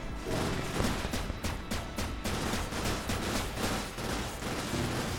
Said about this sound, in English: Medium machine gun not really doing the work here